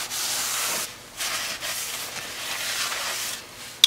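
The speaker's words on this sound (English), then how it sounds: "I'm just gonna clean the rotor up a little bit" A rag soaked in brake cleaner wipes a brake rotor in several close, rough rubbing strokes separated by short pauses, ending with a sharp click.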